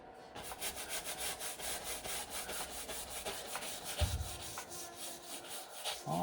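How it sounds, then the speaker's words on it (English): A 2-inch brush scrubbing clear linseed oil medium onto a canvas, close and quiet, with steady repeated rubbing strokes and a soft bump partway through. "I'm just going to kind of scrub that in there."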